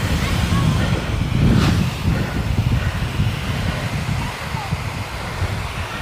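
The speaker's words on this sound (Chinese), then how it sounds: "起风了，这个风里边有沙粒，打的腿疼啊！" Sand-laden wind gusts across an open desert dune, giving a continuous rough rushing and buffeting against the microphone, with people talking underneath.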